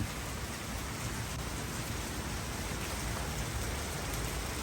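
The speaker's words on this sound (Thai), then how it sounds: "ฝนก็ตกลงมาครับ" Heavy rain pours down on a garden, a dense, even hiss of drops hitting surfaces without pause.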